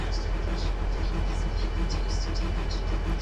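A model railroad lumber train runs along its track, a continuous rumbling hum with faint rhythmic clicks, heard close and steady throughout.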